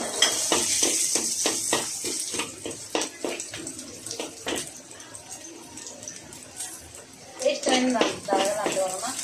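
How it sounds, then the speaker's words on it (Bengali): Chopped onions hit hot oil in a pan with red amaranth greens, giving a steady close sizzle broken by rhythmic scraping stirs, with a voice briefly audible near the end. "পেঁয়াজ দিলাম রে, কমো দাও কমো।"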